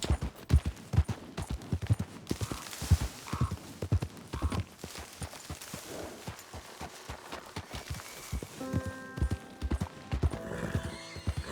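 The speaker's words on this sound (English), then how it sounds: "Big Shire horse." A big Shire horse in Red Dead Redemption 2 clip-clops in a steady, loud hoof rhythm and lets out a neigh, with no one talking.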